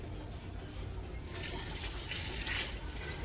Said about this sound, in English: I'm going to add some water. So I got this bowl. I'm going to fill it up.